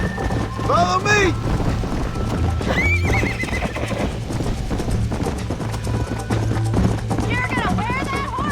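A galloping horse in Red Dead Redemption pounds out steady clip-clop hoofbeats throughout, with several loud whinnies and neighs breaking through close by, while voices talk over the riding.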